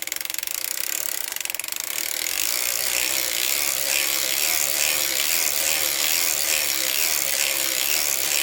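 A hand-cranked circular sock knitting machine runs with rapid, continuous mechanical ratcheting clicks, loud and close, steady for the whole stretch with no speech.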